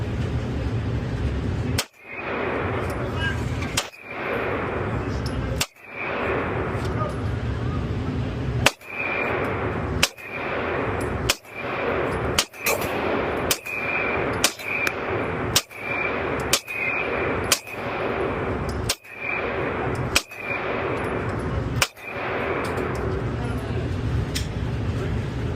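Rapid, sharp bangs from an HK VP9 pistol at a shooting range, fired one after another in irregular sequence over a constant background of range noise.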